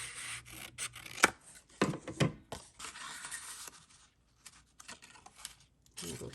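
A paper pocket for a handmade Valentine's flip envelope album is trimmed, with irregular crisp snips and papery rubbing rustles close by, separated by brief pauses.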